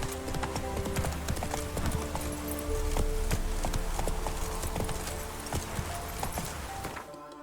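Hooves of the horse Roach clip-clop steadily in The Witcher 3, over a game music bed, with an occasional whinny and a brief voice near the end.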